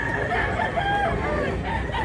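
Chickens and roosters crow and cluck at a Cebu cockfighting-bird yard, a dense steady chorus of calls filling the short stretch without pause.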